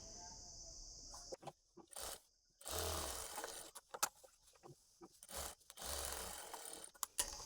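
A sewing machine stitches pocket cloth onto the body of a uniform dress in short bursts of whirring motor and needle rattle, broken by brief pauses.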